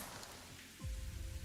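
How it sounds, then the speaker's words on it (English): Rain falls steadily in a Honkai: Star Rail scene, a soft, faint wash of drops pattering on a surface, with a low rumble swelling near the end. "Except that was the sound of rain, not fire."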